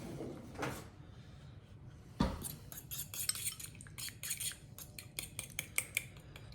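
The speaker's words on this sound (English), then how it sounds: "Give that a quick stir up." A utensil stirs a seasoning mix for rock lobster in a bowl, giving a run of light clinks and scraping taps that grow busier toward the end, with a louder knock early on.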